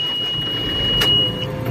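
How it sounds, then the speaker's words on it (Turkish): Diesel engine of a JCB 536 Stage 5 machine with an AdBlue emulator fitted, cranking and catching into a loud close rumble, with a steady high whine throughout. "Şimdi aracımızı çalıştırarak test ediyoruz."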